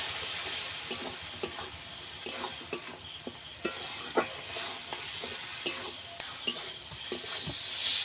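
Spice masala sizzling and frying for a Bengali aar fish curry, with a little water added, while a spoon stirs and scrapes the pan in repeated clicks over a steady hiss; no talking.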